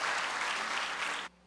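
A crowd claps for a speaker at a live talk, a thick, steady round of applause that holds for over a second and then cuts off abruptly, leaving near silence.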